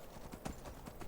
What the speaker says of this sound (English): now that she's got a horse to ride